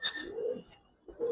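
Giribaz pigeons cooing at a pigeon farm, two short low coos close by separated by a brief pause, with faint chirps at the start.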